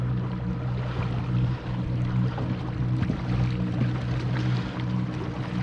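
A 65 lb-thrust Jackson electric trolling motor on a boat hums steadily low with a faint whine, running continuously over soft lake water noise, close and even throughout.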